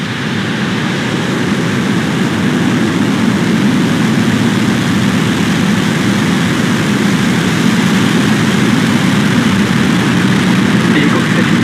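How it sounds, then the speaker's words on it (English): Falcon 9 Merlin 1D engines roar at liftoff for the Ovzon-3 launch, a dense, loud, unbroken rumble that holds steady throughout. "3, 2, 1, 0. Mission liftoff."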